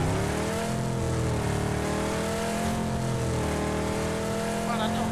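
A car in the battle royale game PUBG drives with a steady, droning engine hum that rises and falls slightly, running continuously and fairly quietly under players talking.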